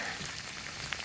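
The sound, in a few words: rain falling during a rainstorm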